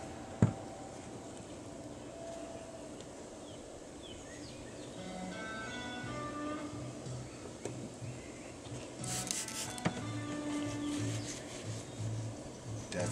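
Clay bar rubbed across car paint to lift epoxy spray overspray, a soft continuous scrubbing and squeaking friction close by, with faint tonal squeaks and an occasional bump, no speech.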